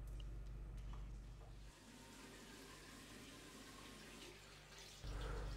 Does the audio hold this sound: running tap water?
yes